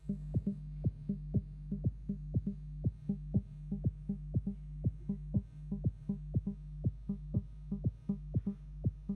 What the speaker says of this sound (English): up to 6 in this case, which will give us something that sounds a bit like a sawtooth